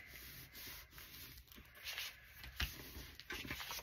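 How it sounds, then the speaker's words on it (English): Paper being glued down into a handmade glue book gives soft rubbing and pressing sounds with small scrapes and brushes, close and quiet, in uneven bursts with no talk. "let's glue this down because that's annoying"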